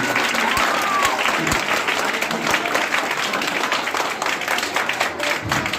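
Audience applause at a 15 August Independence Day gathering, ahead of a patriotic ghazal recitation: sustained, fairly loud clapping from a crowd, with a few sharper claps standing out over the continuous patter.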